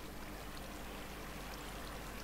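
Steady, rushing flow of water in a video game, a continuous broadband wash that stays even and fairly loud throughout, with no voices over it.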